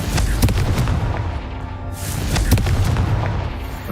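A Confringo fire spell blasts in Hogwarts Legacy, loud booming bursts with heavy low rumble, two sharp impacts standing out over continuous dense explosive noise.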